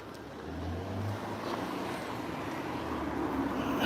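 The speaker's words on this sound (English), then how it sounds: "car coming" A car approaches along a street in Callao Salvaje on the Costa Adeje, its engine rumble and tyre noise swelling gradually and growing louder toward the end as it nears and passes.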